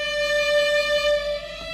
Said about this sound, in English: So you get this kind of slightly out of tuney vibe